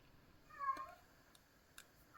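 One short, faint meow from a cat somewhere off in the background, then quiet with a small click.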